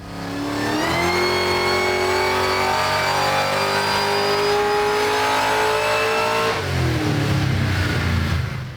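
A supercharged car engine with a Harrop MK2 TVS2650 supercharger revs on a dyno at wide-open throttle, the pitch climbing steadily through the run before dropping off and rumbling again, loud and close.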